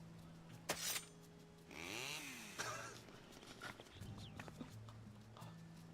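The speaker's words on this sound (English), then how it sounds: "what the hell is that sound? Holy fuck, it's a chainsaw" A chainsaw weapon in Final Fantasy XIV revs with a loud buzzing burst that rises and falls, followed by lighter clacking game sounds, with no talk over it.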